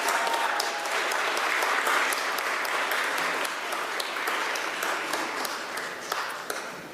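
Graduates at a fall university commencement ceremony applaud their families and friends, a dense, steady wash of many hands clapping that holds loud throughout and thins only slightly near the end.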